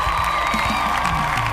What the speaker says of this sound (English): I'll ask for everyone to clap again as an acknowledgement